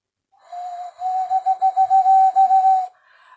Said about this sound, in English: this is a little pig whistle that I got in Nevada City, California in the early 90s